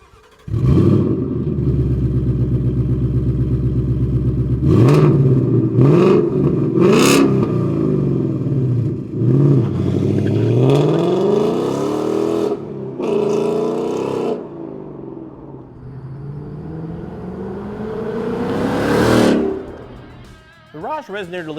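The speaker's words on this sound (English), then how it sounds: "Definitely louder, raspier tone overall, get a little pop out of it. Sounds a lot better than stock." A 2015-2023 Ford Mustang GT V8 with a Roush stainless steel resonator delete X-pipe and factory quad-tip exhaust revs loudly and repeatedly, rising and falling blips over a steady idle, with a voice talking partway through.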